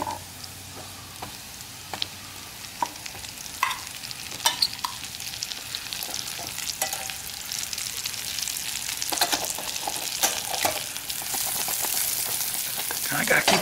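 Garlic and whole mushroom caps frying in garlic butter in a single pot over a camp cooking fire, with a steady soft sizzle and occasional stirring clicks that grow louder and fuller toward the end.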